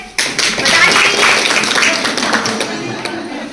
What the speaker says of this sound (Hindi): अच्छा, ताली बजानी आती है?